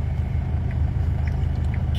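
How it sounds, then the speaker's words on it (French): A car engine idles steadily nearby, a low continuous rumble with no voices over it. "Tu peux me couper le moteur"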